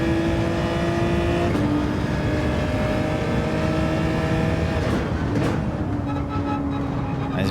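Race car engine in Gran Turismo 7 driven with traction control off, a loud, steady high drone that holds its pitch, then shifts and climbs again after a brief break, with no talk over it.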